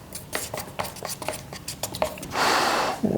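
Fiberglass resin thinned with a little acetone being stirred in a container: quick, uneven clinks and scrapes repeat close up, ending in a brief, dense scraping swirl.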